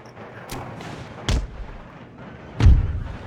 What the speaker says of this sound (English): Let's deploy these artillery.